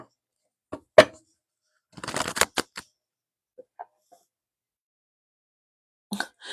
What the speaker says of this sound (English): I'll shuffle your cards now.